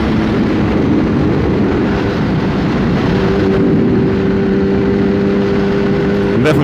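A Kawasaki ZX10-R sport motorcycle rides at steady speed, its engine a continuous loud drone with wind rush and a faint rising tone near the end.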